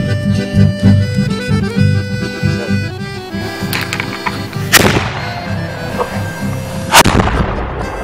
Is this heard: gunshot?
yes